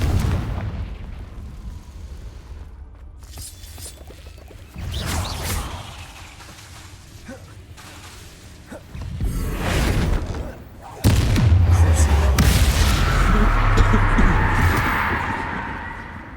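Repeated Confringo blasting-spell explosions in Hogwarts Legacy, several booming bursts with rumbling low ends and crackling tails spread across the stretch, the last one loudest and sustained, over in-game ambience.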